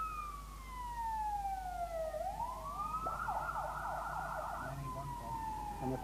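An ambulance siren wails steadily, sweeping up and down in pitch, loud and close over low traffic rumble, with no voices.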